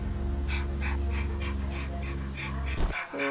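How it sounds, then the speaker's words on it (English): A dog pants in a steady, rhythmic run of short breathy puffs close to the listener, over a constant low background hum, ending in a brief louder burst. "Oh, he's panting."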